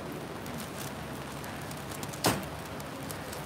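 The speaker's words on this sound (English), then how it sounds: "So the rain is starting to come down pretty hard." Heavy rain pours down in Japan, a steady dense hiss of drops on surfaces. It is fairly quiet and even throughout, with one brief sharp knock partway through.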